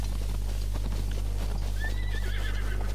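A horse in The Legend of Zelda: Breath of the Wild whinnies in a rising, wavering call while hooves clip-clop in a steady rhythm, over a constant low game hum.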